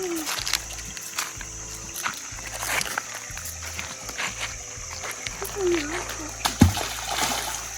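Splashing in a clear, cold pool of water outdoors, a few scattered small splashes and trickles under a child's and adult's chatter, moderately close.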